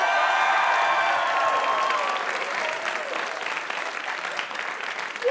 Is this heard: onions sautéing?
no